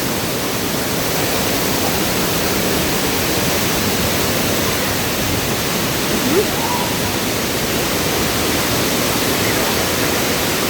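Ubot Falls at Villa Aurora roars as a loud, steady wash of rushing water, constant and close, with a faint voice barely surfacing midway.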